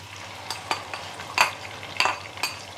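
Ground masala paste frying in coconut oil for a Malabar prawn curry, a soft steady sizzle broken by several sharp stirring scrapes and clinks of a spoon against the pan, close and moderately quiet with no talking.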